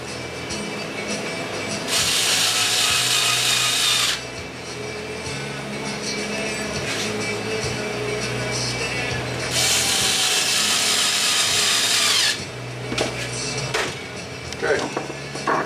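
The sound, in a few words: power driver driving screws into RC car HPI Savage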